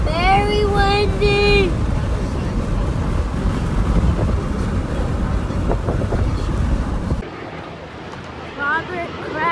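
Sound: wind blowing at a football stadium

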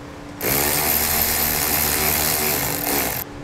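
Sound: removing battery nut with 10 millimeter socket on Jeep Wrangler

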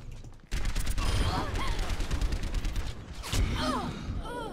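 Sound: gunfire in Overwatch video game

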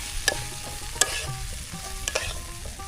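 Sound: frying water lily stalks in a pan

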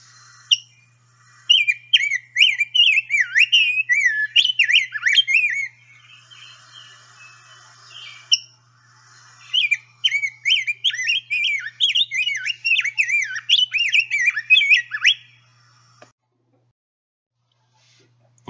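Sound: singing male bird giving song mixed with eek calls

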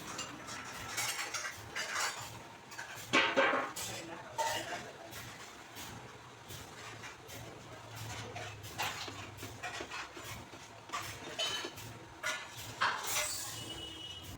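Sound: stirring grated mawa in sugar syrup in a pan

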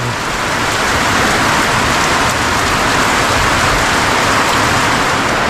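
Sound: rain falling in the forest

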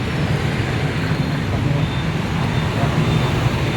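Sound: motorbike street traffic in Ho Chi Minh City

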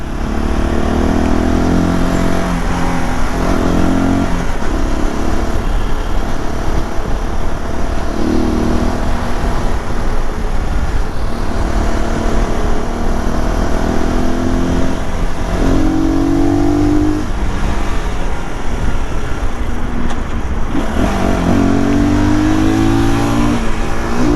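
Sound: evening road traffic heard while riding a motorcycle

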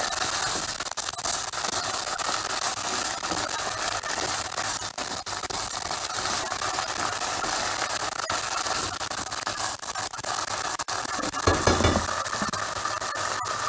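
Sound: green lentils with onion and tomato paste sizzling, stirred

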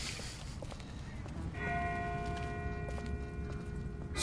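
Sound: distant bell ringing in a video game

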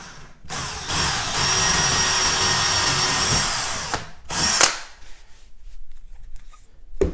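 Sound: power drill drilling floorboard at angle

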